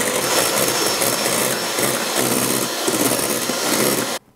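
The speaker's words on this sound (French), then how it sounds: "à mes blancs d'œufs, je rajoute une pincée de sel. Et ensuite, on va les fouetter pour que ça monte en neige." Egg whites with a pinch of salt are whisked hard in a bowl, a fast, dense, scratchy beating that stays loud and close for several seconds, then stops abruptly, with no talking.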